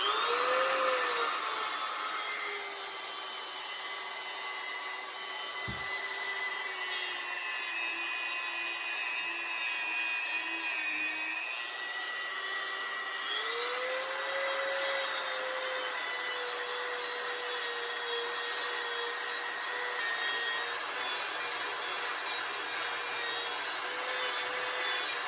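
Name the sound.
wire wheel cleaning bicycle crank parts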